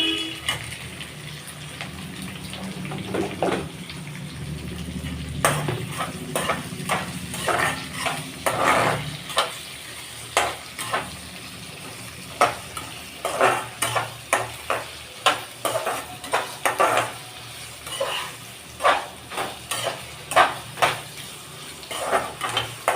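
Onions sautéing in oil for a bitter gourd curry, with a steady sizzle under repeated sharp clinks and scrapes of a spoon stirring against the pan, close and moderately loud, no talking.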